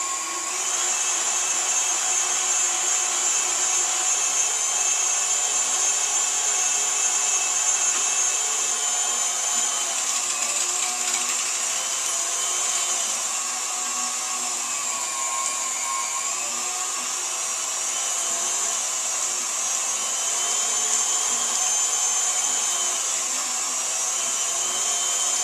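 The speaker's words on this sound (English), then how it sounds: "we're going to grind it up, we're going to season it, and then we're going to run it back through the grinder" A meat grinder runs continuously, grinding seasoned meat for meatballs a second time, giving a steady, loud, high-pitched mechanical whine with no talking.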